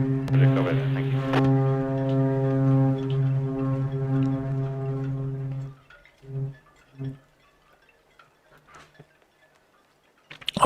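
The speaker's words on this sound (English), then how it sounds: "I'm hoping you can hear the hooting and honking, shipmates." A deep, loud, sustained cruise ship horn blasts for several seconds in Southampton port, followed by two short hoots and quieter harbour noise.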